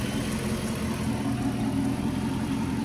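A 2008 Chrysler 300C with a Hemi V8 idles nearby, giving a steady, even engine rumble and hum with no revving and no voices.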